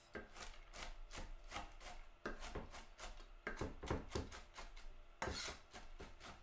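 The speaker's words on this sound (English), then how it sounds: "I'm just going to do it on the cutting board the old-fashioned way with a knife." Repeated knife chops on a wooden cutting board, a steady run of crisp thuds and scrapes as pecans are cut up close by.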